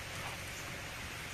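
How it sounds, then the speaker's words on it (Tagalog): Rain falls in the countryside as a soft, steady hiss of drops on surfaces, faint and continuous with no voices. "Umuulan na guys. Ulan. Umuulan."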